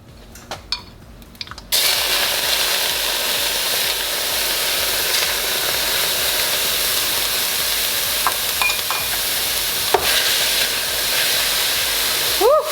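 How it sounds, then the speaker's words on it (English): Loud steady sizzling of stuffed acorn squash filling frying in a pan, starting abruptly after quiet handling noises and hissing continuously with occasional utensil clinks. "love that sizzle"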